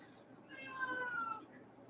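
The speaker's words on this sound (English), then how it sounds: "you are going to deafen our viewers with your meows" A house cat meows in a drawn-out, rising-and-falling call near the microphone, clear over a faint background and with no talk.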